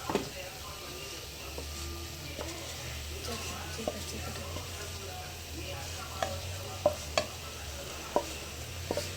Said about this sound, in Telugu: దీంట్లో కలిపేసి ఇట్లా ఫ్రై చేసుకోవాలి. అంటే మొత్తం ఇట్లా కలియబెట్టాలి.